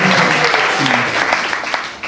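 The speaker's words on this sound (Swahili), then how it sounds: "Simuapigie makofi jamani." An audience applauds warmly for a newly honoured doctor at a church ceremony, producing dense, continuous clapping that fades slightly toward the end.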